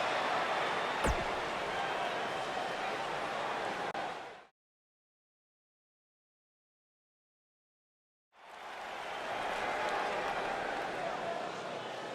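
Live arena crowd in the wrestling game WWE 2K19 cheering and applauding as a dense, steady roar, cut off by a few seconds of silence before resuming.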